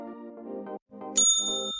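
A notification bell sound effect: a short tonal jingle followed by a bright, ringing ding that sustains to the end, loud and clean with nothing else behind it.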